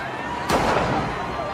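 A single sharp gunshot from the crime thriller film Blackhat rings out near the start, followed by a fading rumbling tail under a steady background with a voice speaking.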